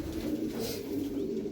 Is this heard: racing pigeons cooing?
yes